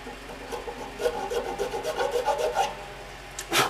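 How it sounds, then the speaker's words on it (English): Metal file rasping a bone nut on a Gold Tone BG250F banjo headstock, a series of quick close scraping strokes in rhythm, ending with a sharper louder scrape; no talking. "You want to file the same angle the headstock is"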